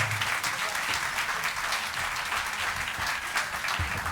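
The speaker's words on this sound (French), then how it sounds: "On les applaudit bien fort." Steady audience applause fills the space after the Cassel Harmonie performs a piece at a June 2023 concert, dense clapping sustained evenly throughout.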